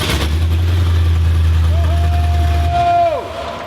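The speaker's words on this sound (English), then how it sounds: "I heard that fuel pump that time." An electric fuel pump primes in a body-swapped, LS-powered car, a steady low hum lasting nearly three seconds before cutting off as a brief tone slides downward, with voices nearby.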